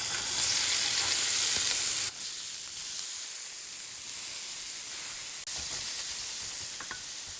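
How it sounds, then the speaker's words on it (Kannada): Chopped onion frying in a pan as the base for chicken sausage sukka, giving a loud steady sizzling hiss that drops to a softer level and then lifts slightly again. "ನಾನು 1 ಟೊಮೆಟೊ ಮತ್ತೆ 1 ಈರುಳ್ಳಿ ಕಟ್ ಮಾಡಿದ್ದೇನೆ, ಅದನ್ನ ಫ್ರೈ ಮಾಡ್ಬೇಕೀಗ. ಫಸ್ಟ್ ಈಗ ಈರುಳ್ಳಿ ಹಾಕೋ."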